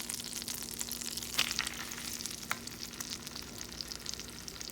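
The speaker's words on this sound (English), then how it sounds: "I want this butter and oil piping hot because I want to sear this fish and lock it in real quick." Flounder sears in piping hot butter and oil, a steady close sizzle and crackle with a few brief sharper spits, and no talking.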